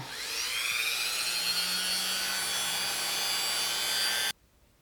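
A rotary polishing tool works on a scratched camera lens, a steady high-pitched whine that rises as it spins up, holds evenly and close, then cuts off abruptly.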